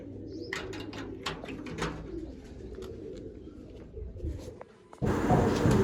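Pigeons coo softly at close range amid scattered chirps and rustling, ending in a sudden louder burst of noise.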